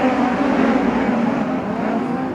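A pack of USAC midget race car engines roars loudly and continuously at a race start, a dense droning buzz as the cars accelerate together on a speedway.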